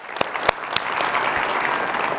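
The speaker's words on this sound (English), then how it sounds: "give a round of applause for that" Audience applause at the 2024 State of Midland address: dense, steady clapping from a large crowd, with a few sharp individual claps standing out early, continuing evenly to the end.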